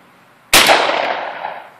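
A shotgun fires a single loud blast, sharp onset followed by a long booming decay that trails off over more than a second.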